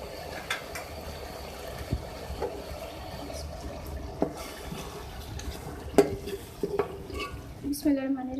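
A spoon scrapes and clinks against a pot while murgh musallam boti masala is served, with steady close scraping, scattered sharp taps and a brief voice near the end.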